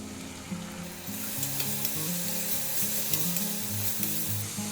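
Ginger, garlic, green chili and tomato paste hits a hot pan and frying steadily, a bright sizzle with soft stirring and scraping, close and fairly quiet, while a steady background hum continues underneath.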